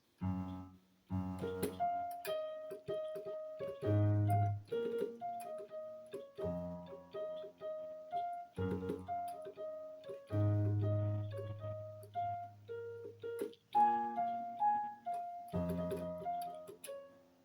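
A solo piano plays the verse of a song, a steady melody with repeated high notes over low bass chords, clear and close with no voices.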